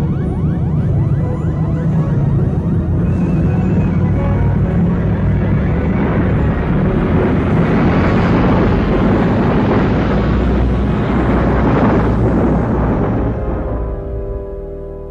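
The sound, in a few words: spaceship crash landing in an audio drama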